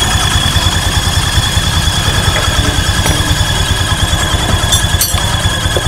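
A Honda Vario 150 scooter idles with a steady, close, rhythmic engine putter, with faint high-pitched squeaky tones over the throb throughout, and no talking.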